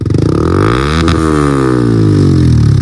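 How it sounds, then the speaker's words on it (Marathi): A motorcycle fitted with an aftermarket R-Line exhaust revs up sharply and winds back down, loud and close, with a deep throaty exhaust note. "आर लाईनचा एक्झॉस्ट लावून कसा आवाज येतोय तो बघूया"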